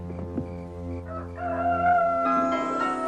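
A rooster crows with a drawn-out rising call, heard over a low droning hum in a dramatic film scene.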